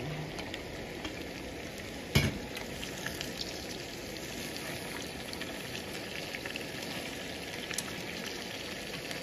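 Scallion, ginger, garlic and chili sizzle steadily in a wok with added water, a soft continuous frying hiss with one sharp clank, and no speech.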